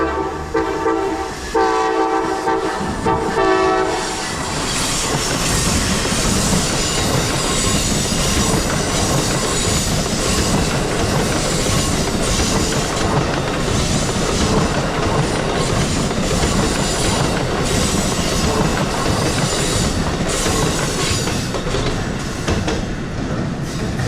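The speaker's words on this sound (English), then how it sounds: "Amtrak 163 passes by with a horn show on track number 3" Amtrak Regional Train 163 roars past on track 3 at Norwalk, loud and continuous, with clattering wheels, some wheel squeal and a horn sounding at the start as the train approaches.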